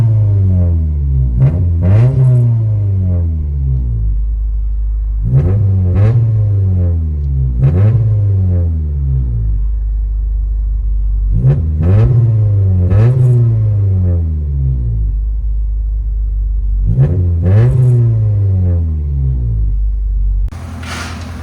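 Engine of a 1999 Honda Civic fitted with headers and a Netami resonator, heard from inside the car, revving up and dropping back repeatedly in rising and falling sweeps, loud and close with no talking.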